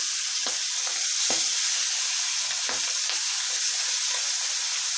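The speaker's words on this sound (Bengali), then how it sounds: "আর কয়েকটা মাছ আমি ভেজে নিচ্ছি" Pabda fish fry in hot oil in a kadai with a dense, steady sizzle and crackle, with a few sharper spits and pops rising over the constant hiss.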